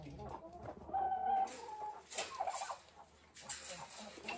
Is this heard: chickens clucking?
yes